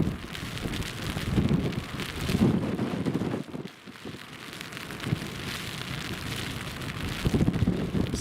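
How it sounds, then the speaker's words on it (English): Steady rain pours down during a storm at an airport, a dense continuous hiss with gusting swells and a brief lull midway, heard alone without voices. "just let the sound of the rain do"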